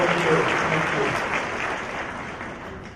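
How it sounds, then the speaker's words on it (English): Applause from the audience at a high school hall of fame ceremony fills a large room as a dense, even wash of clapping that slowly fades, with faint voices mixed in. "let's give these people a round of applause."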